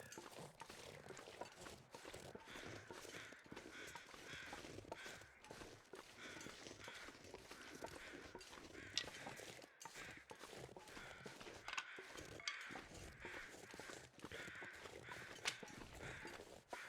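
Crows caw repeatedly from a distance in the survival game The Long Dark, scattered calls over a steady, fairly loud ambient wash of wind and outdoor noise, with occasional soft footstep-like crunches.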